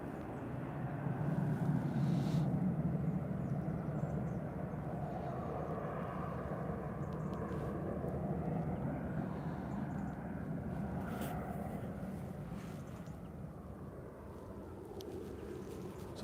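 A departing airliner banks into a right-hand turn after takeoff from Liverpool John Lennon Airport, its engine roar a faint, steady distant drone that slowly fades.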